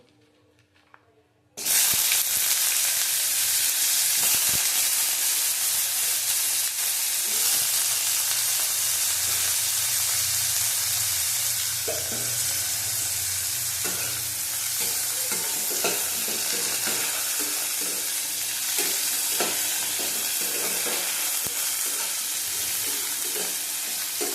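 Neem leaves and eggplant sizzle steadily in a hot pan, a loud continuous frying hiss starting after a short quiet moment, with occasional stirring scrapes and clicks throughout.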